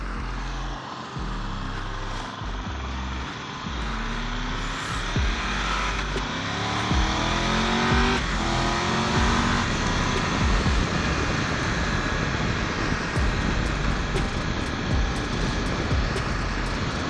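A motorcycle fitted with a quick shifter rides through traffic. Its engine pitch climbs in rising sweeps as it runs up through the gears, loud and close over steady wind roar.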